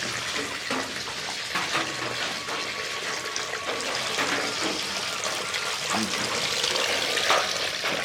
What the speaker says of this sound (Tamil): நாங்க இப்ப பாலை கீழே இந்த தாஜுக்குள்ள ஊத்த போறோம்